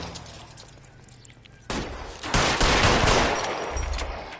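Gunfire from a car chase shootout in the LA Noire video game, a loud burst of shots erupting after a quieter stretch and continuing as a dense, close barrage.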